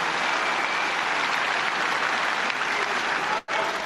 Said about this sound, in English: So he deserves a great round of applause, obviously, for his performance.